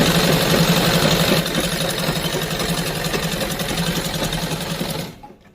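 A sewing machine runs steadily, stitching a salwar as the fabric is pulled taut, a dense continuous mechanical whir with a slight shift after the first second before it stops near the end.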